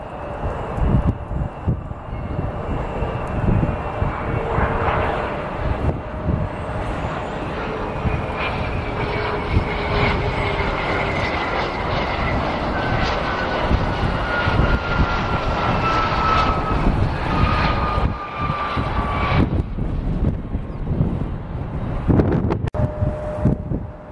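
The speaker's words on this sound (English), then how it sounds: "Got a Phenom inbound from Chicago." An inbound Embraer Phenom business jet at Columbus airport, a steady jet engine roar with a slowly sliding whine that builds and holds for over twenty seconds, heard outdoors with wind buffeting the microphone.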